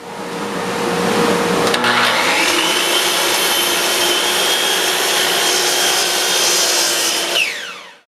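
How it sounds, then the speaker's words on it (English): A power saw cuts book-matched wood boards for the sides of a rebuilt Kalamazoo Model Two amp cabinet: a loud, sustained whining roar through the cut that spins down abruptly at the end. "So now I'm going to cut them to make the sides"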